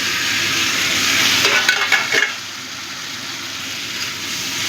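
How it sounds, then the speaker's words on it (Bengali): Potato and cauliflower fry with spices in oil, giving a steady bright sizzle with a brief burst of stirring scrapes in the middle, close and moderately loud. "মশলার সাথে ভালো মতো কষে গেছে। আলু আর ফুলকপিটা তেল ছেড়ে দিয়েছে।"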